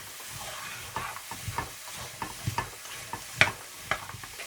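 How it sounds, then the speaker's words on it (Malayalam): Carrot pickle mixture being stirred in a pan, a soft low sizzle under a run of irregular scraping and tapping strokes from a spoon, with a brief metallic clink near the end. "ഇനി അതുകൂടി ഒന്നുകൂടി മിക്സ് ചെയ്യാം."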